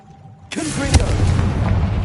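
A Confringo fire spell from Hogwarts Legacy bursts with a sudden loud boom after a brief quiet moment, then leaves a rumbling, crackling blast that carries on to the end.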